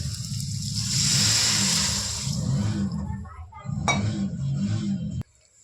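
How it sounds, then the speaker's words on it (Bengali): Water poured into a pan of fried pasta with vegetables: a steady rushing splash for a couple of seconds, then a loud hiss and bubbling as it hits the hot pan, with light clinks of utensils before it cuts off. "পাস্তাটা আমি কিছুক্ষণ ভেজে নিয়েছি এবার আমি এর মধ্যে দিয়ে দেবো জল"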